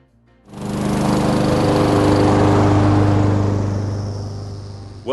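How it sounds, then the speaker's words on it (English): A Honda HRR216VKA walk-behind lawn mower starts and runs, its engine settling into a steady, loud droning hum with a tonal buzz, then cutting off near the end; no voices. "how to properly and safely operate your new lawnmower"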